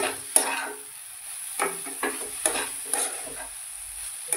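A spatula stirs momo stuffing with spring onion in a pan, giving several soft scraping strokes at an irregular pace over a faint, quiet sizzle.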